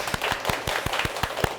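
Audience at a televised Jeonju MBC lecture claps in a thin, sparse rhythm, distinct single claps spaced about every fifth of a second over a faint background.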